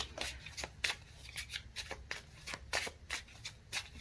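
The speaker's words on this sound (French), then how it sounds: "je bats les cartes et je demande" A deck of Everyday Witch oracle cards being shuffled by hand, with repeated crisp riffling and slapping bursts in a quick irregular rhythm, close and fairly quiet, with no talking.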